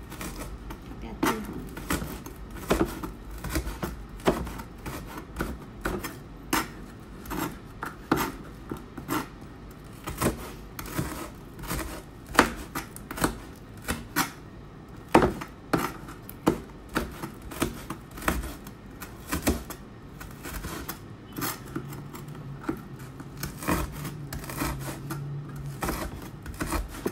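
A knife chops chili peppers into rounds on a cutting board, giving a long run of close, crisp, irregular taps with short pauses, a faint low hum underneath.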